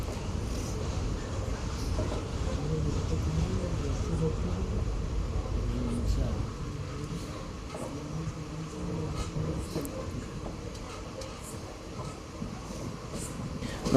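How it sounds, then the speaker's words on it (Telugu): Train no. 17662 pulls away from Dayanand Nagar station after a one-minute halt, a steady low rumble and rattle of rolling carriages running continuously throughout, heavier at first then settling slightly, with faint voices mixed in. "ఒక నిమిషం హాల్ట్ తర్వాత మన ట్రైన్ తిరిగి బయలుదేరింది."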